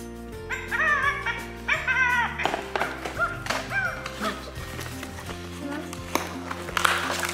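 A dog yips and whimpers in short, high repeated bursts at a child's fourth birthday gift opening, close by, mixed with light taps and thumps and voices talking.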